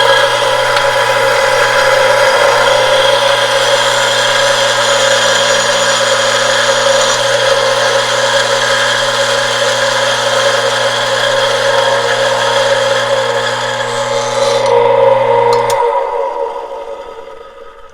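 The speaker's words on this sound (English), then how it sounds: "So this is the first step of grinding with this grinder." A Mazzer Super Jolly espresso grinder, converted to doseless, grinds coffee beans in a steady, loud motor whir with a rough grinding texture. It runs continuously for about fifteen seconds, then stops abruptly and its hum fades out.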